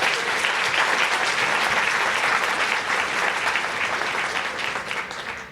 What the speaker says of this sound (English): Round of applause for Dennis Carmen